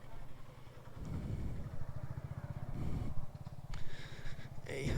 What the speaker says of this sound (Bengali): এই যে দুইটা মোটরসাইকেল নিয়ে যাচ্ছি